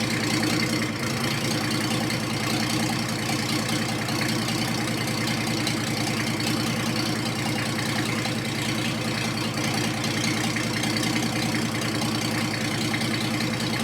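A 1954 Ford F600 truck engine runs at a steady idle for the whole stretch, loud and close, with an even low rumble and a faint knocking pulse throughout.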